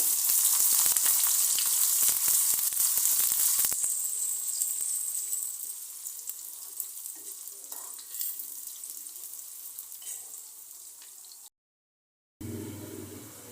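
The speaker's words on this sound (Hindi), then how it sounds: "अब हम इसमें ज़ीरा और प्याज ऐड करेंगे।" Cumin seeds and onion hit hot oil with whole chillies already in the pan, giving a loud, bright sizzle that gradually settles into a softer crackling fry, followed by a brief gap and a low clatter.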